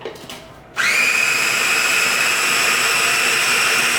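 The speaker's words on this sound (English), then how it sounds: "We're going to puree this till we get an inch of its life." A blender purees avocado salsa with garlic and mayonnaise, starting abruptly after a short quiet moment and then running as a loud, steady, high-pitched whir close by until the end.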